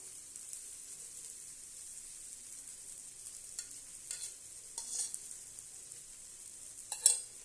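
Ragi adai, a finger millet flatbread, cooking in oil on a pan with a soft, steady sizzle throughout and a few brief louder crackles near the end, no voices.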